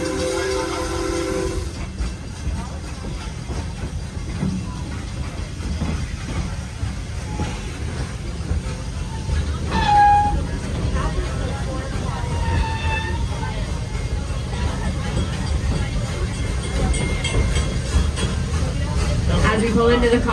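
A train rolls along with rumbling wheels and occasional horn or whistle tones, loud and continuous, with an announcer's voice speaking over it at times, on the Serengeti Express theme park ride.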